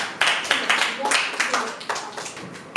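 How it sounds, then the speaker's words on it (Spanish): Audience applause for Diego at a magic academy gathering before a card trick, a run of close, crisp hand claps from a small group, steady and fairly loud for a few seconds. "fuerte aplauso a Diego"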